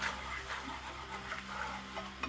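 Caramel syrup with a splash of vanilla extract being stirred in a pan, a soft continuous bubbling sizzle with light scraping strokes, close and without speech.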